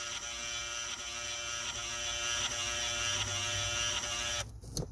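Electric sunroof motor on a Hummer H3 running as the roof opens fully, a steady mechanical whir and hum close by that cuts off abruptly near the end with a faint click.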